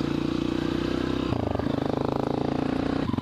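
A Suzuki GSX-R motorcycle engine revs hard and close as the bike pulls away for a wheelie, a loud steady roar whose pitch drops sharply at a gear change midway, then climbs again.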